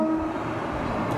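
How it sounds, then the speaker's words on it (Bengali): A train runs along a village railway line right in front of a house, heard as a steady broadband rumble that fills the short moment without a break, moderately loud and close. "ট্রেন যাচ্ছে"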